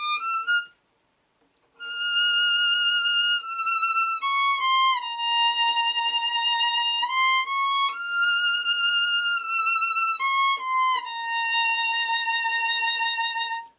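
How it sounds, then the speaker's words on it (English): Smooth, sustained violin notes bowed with even pressure, played close and clear, changing pitch in steady steps after a brief opening note and a short silence. "an even pressured bow will sound like this"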